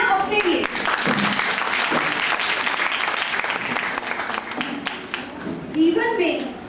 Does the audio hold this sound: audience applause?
yes